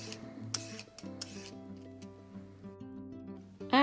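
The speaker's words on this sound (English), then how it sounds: "Wash the carrots, cut the edges and peel them." Carrots are peeled by hand in a home kitchen: repeated short rasping strokes sounding near and fairly quiet over a steady tonal background, with a few sharper scrapes and a louder knock at the end.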